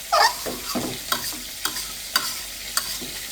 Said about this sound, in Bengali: এখন একসাথে মাংস আর এই ওল কষিয়ে নেব।